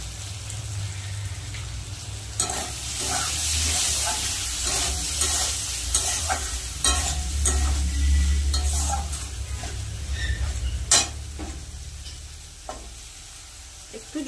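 Spices for vegetarian ghugni sizzle and fry in a pan, with a steady hiss and scraping stirs of a spoon layered on top, close and fairly loud, with no voices.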